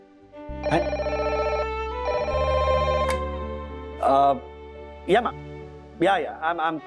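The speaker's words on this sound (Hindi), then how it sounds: "कियारा मैडम का फोन था." A telephone rings in a repeating electronic pattern, two long bursts loud and close, followed by someone talking.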